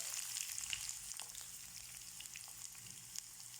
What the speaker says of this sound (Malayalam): കടുക് കൂട്ടുമ്പോൾ ചെറുതായി അരിഞ്ഞ ചെറിയ ഉള്ളി ഇടുക